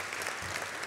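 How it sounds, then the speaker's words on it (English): Audience applause at a corporate gathering honoring Celgene and Juno colleagues, a dense, even burst of many hands clapping at moderate distance, brief and steady with no voices. "I think we should applaud the group again for what you've done."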